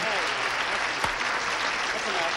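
Studio audience on a television game show claps to welcome a contestant, a steady, full wash of applause with faint voices mixed in beneath it.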